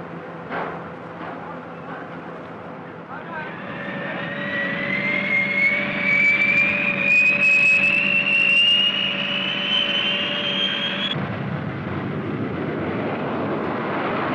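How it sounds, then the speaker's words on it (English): A B-58 bomber in flight, heard as a loud, steady jet roar that swells and rises in pitch as it passes, then cuts off abruptly into a broad rushing wash. "Also part of this massive strike force is the B-58."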